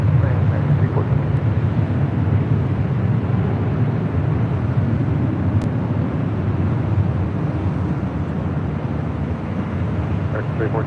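A large airliner around LAX, with a steady, loud broadband jet roar running throughout and no quiet gaps, heard close and continuous with a faint voice underneath.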